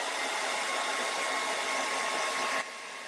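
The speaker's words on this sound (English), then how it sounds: "get out a hairdryer" A hair dryer blows on paint on a door hanger with a steady, loud broadband whoosh, then drops abruptly to a lower setting near the end.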